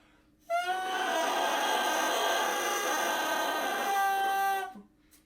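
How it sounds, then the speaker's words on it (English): A bassoon reed blown on its own without the instrument gives a single sustained buzzing crow lasting about four seconds, raspy and rich with high and low tones, close and fairly soft, then stopping. "you could hear that my reed was vibrating"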